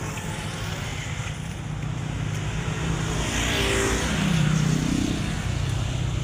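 Highway traffic roars steadily nearby, with a continuous engine and tire drone that swells slightly as vehicles pass by, heard while walking toward a Caltex station.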